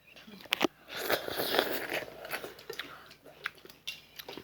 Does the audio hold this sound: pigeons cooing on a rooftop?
no